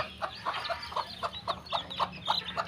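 Newly hatched chicks peep and cluck in a quick, steady rhythm, soft and close, with a low hum in the background.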